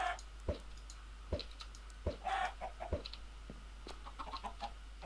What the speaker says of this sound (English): Look at all my little chickens.